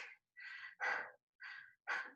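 Heavy panting after a dumbbell cardio workout: five quick, breathy gasps in an uneven rhythm, close to the microphone, with short silent gaps between them.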